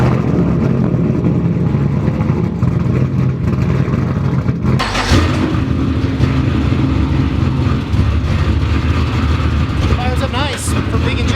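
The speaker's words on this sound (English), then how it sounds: "Fires up nice for big injectors." Tuned car fitted with big injectors starting after starter trouble, its engine roaring steadily close by and revving now and then, with people talking over the running engine.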